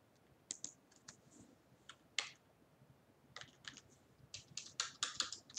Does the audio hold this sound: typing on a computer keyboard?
yes